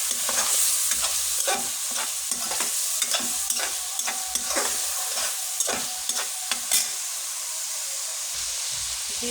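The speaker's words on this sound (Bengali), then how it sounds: "এখন আমি মাংসগুলো ভালোভাবে কষিয়ে নিব।" Meat sizzling in hot oil while a spoon stirs it in a pan, a constant close frying hiss broken by regular scraping strokes, with no voices.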